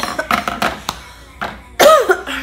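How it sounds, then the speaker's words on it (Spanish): A woman with a congested chest gives a series of short, dry coughs and throat-clearing bursts close to the microphone, the last one louder and rougher. "Como que me quiere dar tos"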